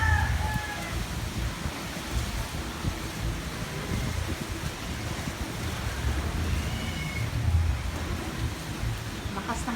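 Strong typhoon wind gusting steadily during Typhoon Uwan, a loud, continuous broadband roar and rumble with no talk, like wind buffeting a microphone outdoors.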